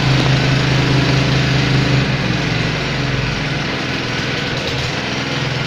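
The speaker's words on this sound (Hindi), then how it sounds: "ये एक्सीलेटर पूरा कम कर दिया हमने तो इसका कॉम्पैक्शन वाइब्रेशन कम हो गया।" Soil compactor powered by a Honda GX160 petrol engine, running with a steady buzzing drone and rhythmic vibration thump that eases as the throttle is cut back, close and continuous.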